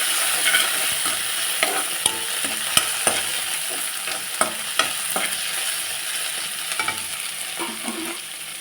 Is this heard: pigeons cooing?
no